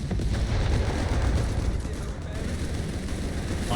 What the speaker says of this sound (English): Pack 40 firing at the Crusader tank here